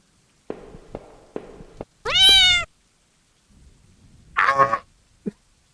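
A loud default cat jump scare in a spooky video game: a sudden shrill, yowling cat screech bursts out, then a second shorter yowl follows after a pause, with a few soft knocks and thuds before it.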